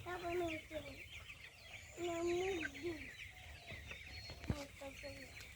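Chickens on a small family poultry setup cluck in a steady series of short calls close to the mic, with people talking nearby at times.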